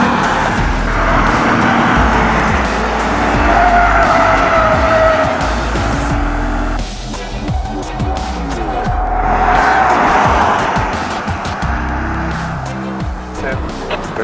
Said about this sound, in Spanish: este es un auto 6 cilindros, 204 caballos y es tracción posterior, así que vamos a probarlo ahora en La Chutana